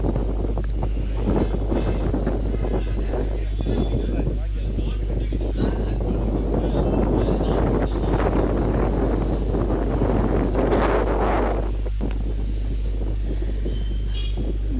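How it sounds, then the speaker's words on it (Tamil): Strong wind on a mountain in Kanyakumari buffets the microphone with a loud, continuous roar and gusty rumble that swells and eases throughout, with faint voices underneath. "மேலே காற்று தான் பயங்கரமாக அடிச்சது செம்ம காற்று அடித்தது"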